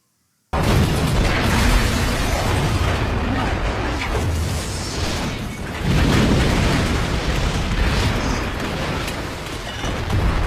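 Explosions from the action film The Marine: dense, heavy booms and roaring blasts fill the scene continuously, loud and broadband, with a second surge of rumbling detonation midway.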